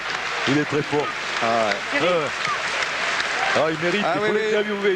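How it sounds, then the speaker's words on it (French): A rugby crowd at a 1997 Section Paloise versus Bègles match applauds a French lock leaving the field, a steady wash of clapping and cheering running beneath continuous excited commentary. "Et il sort pour l'applaudir."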